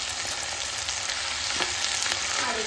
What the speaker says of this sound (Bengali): আর একটু ভেজে নিই।